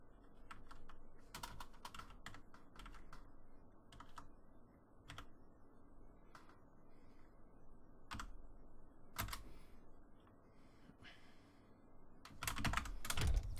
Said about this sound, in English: I'm just typing random characters.